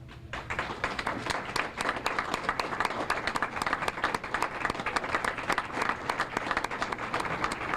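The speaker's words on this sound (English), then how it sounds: "deserve a big round of applause" An audience claps for the parents, guardians and family members of award winners at a school recognition ceremony, a sustained even round of applause with sharp individual claps, moderately distant and without talk.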